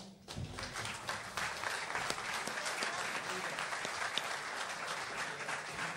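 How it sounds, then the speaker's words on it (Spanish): An audience at a national thought congress claps together in sustained, even applause, moderately distant and continuous for several seconds, with no talk over it. "pedimos un aplauso también"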